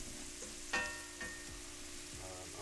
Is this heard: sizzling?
yes